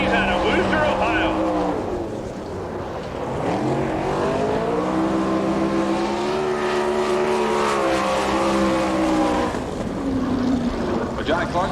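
Winged sprint race car at an All Star Circuit of Champions event in Woodstock, Georgia, roaring around the racetrack on a lap, its loud engine pitch rising and falling as it passes, with an announcer talking over the noise.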